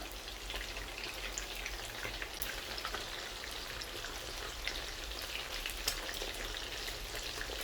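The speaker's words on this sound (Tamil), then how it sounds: "இப்போ எண்ணெய் காஞ்சிச்சு, நம்ம சிக்கன் போட்டுக்கலாம்." Chicken wings for spicy Buffalo wings frying in hot oil, a steady close crackling sizzle with dense popping bubbles that holds evenly throughout, no talk.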